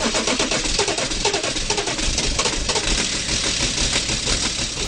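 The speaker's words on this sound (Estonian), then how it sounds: "Mootor turtsub ja ei taha käima minna." A car engine struggles through a cold winter start without preheating, giving a continuous rough, knocking clatter of uneven sputtering pulses that stays loud and steady throughout.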